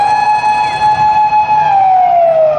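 Toy ambulance siren wailing loudly and steadily in a single sustained tone that slowly drops in pitch toward the end, heard alone with no talking.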